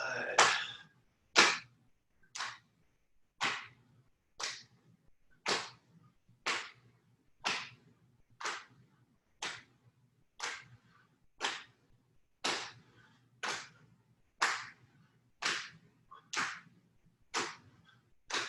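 Rhythmic open-hand slaps against the body during a qigong exercise, about eighteen sharp, evenly spaced smacks at roughly one per second, close and crisp over a quiet background.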